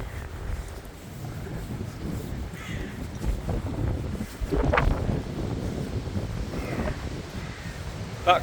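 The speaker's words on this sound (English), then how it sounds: "very blowy." Strong wind buffets the microphone outdoors beside an old office building, a steady low roar that swells and gusts for the whole stretch, with a few faint calls in the distance.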